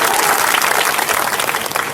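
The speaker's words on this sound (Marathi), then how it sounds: "एकदा जोरदार टाळ्या झाल्या पाहिजे त्या सगळ्यांच्या." Loud, dense applause from a large audience at a devotional kirtan, sustained and near, gradually easing slightly toward the end.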